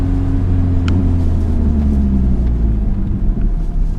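A manual stick-shift car held in second gear accelerates, its engine a loud continuous low drone with a faint rising tone, close and steady for a few seconds.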